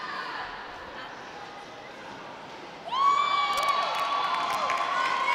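A roller derby crowd at the 2017 Roll-Line Cup murmurs quietly, then bursts into loud cheering and shrill whistles as Barcelona scores five points, the noise holding strong to the end.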